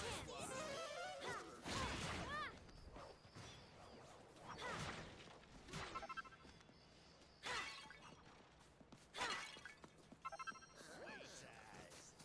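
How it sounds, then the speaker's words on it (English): Generic pot smashing effect from the Dragon Quest Treasures video game, several sharp breaking crashes spread across the clip, mixed with game sounds while someone talks over them. "That generic pot smashing sound."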